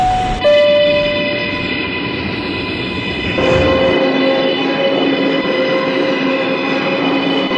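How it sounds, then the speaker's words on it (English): A New York City F local subway train hums loudly with steady tonal whine from its motors, a brief chime near the start, and the pitch shifting midway as it moves. "This is a Jamaica 179th Street bound F local train."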